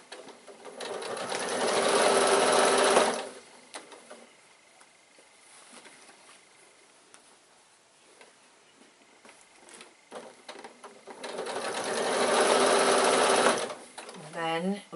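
A sewing machine stitches a piped bag in two loud bursts of rapid mechanical whirring, separated by quieter handling of the fabric, with a person talking nearby.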